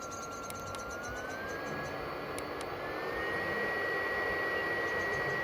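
A small fan in a BioLite CampStove 2 whirs steadily with a thin, rising whine that climbs in pitch and grows slightly louder as it spins up.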